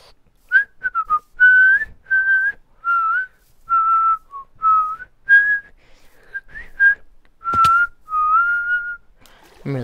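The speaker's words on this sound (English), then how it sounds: "I'm really good at whistling." A person whistles a lively tune of clear, short notes in quick phrases, loud and close with nothing else behind it.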